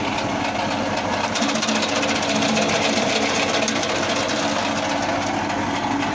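A homemade, tractor-driven wood chipper shredding branches gives a loud, continuous mechanical roar with rapid knocking and clattering that holds steady from start to finish, with no voices.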